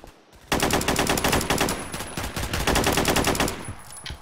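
Rapid automatic gunfire rattles in a continuous, loud burst lasting several seconds in a Roblox shooting game, with no talking over it.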